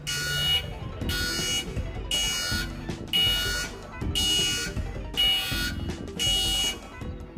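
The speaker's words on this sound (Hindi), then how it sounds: "जवाब है अलार्म" An alarm rings in repeated bursts, about seven evenly spaced electronic buzzing pulses with brief gaps between them, loud and harsh, no talking.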